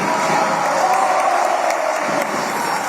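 Sustained applause from a crowd of senators in the Senate chamber after the election of its board, steady and fairly loud throughout with no break.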